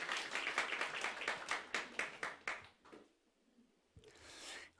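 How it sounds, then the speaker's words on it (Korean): A church congregation claps rhythmically for the accompanist, with a quick series of distinct, fairly close claps for about three seconds, then near silence, then a short soft burst of clapping. "박수 한번 쳐."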